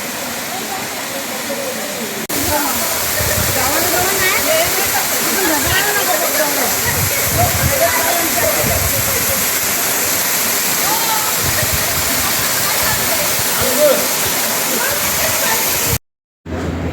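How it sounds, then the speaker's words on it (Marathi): The Bendevadi waterfall plunges into a natural pool below. Its roar is a constant, full rush of falling water heard close, with a voice speaking over it and a brief cutout just before the end. "धबधब्याचे दृश्य मनमोहक असून धबधब्याखाली एक नैसर्गिक तळे तयार झाले आहे"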